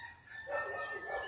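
A rooster crows once, a short, fairly faint call heard alone in a quiet setting, ending with a sharp click.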